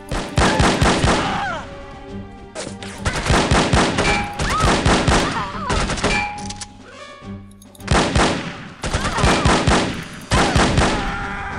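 Gunfire rattles through the No One Lives Forever video game in a Hamburg stage scene, rapid bursts of loud close shots with metallic clangs and pings, broken by brief pauses before each new volley.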